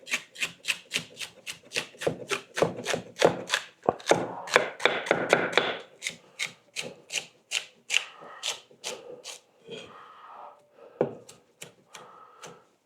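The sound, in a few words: knife chopping ingredients for homemade chicken broth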